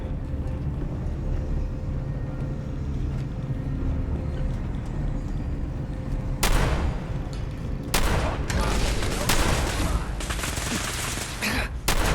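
Gunfire in Fallout 4, the post-apocalyptic shooter: sharp shots crack out in scattered bursts over a steady rumbling combat din, some close and loud, repeating through the latter half.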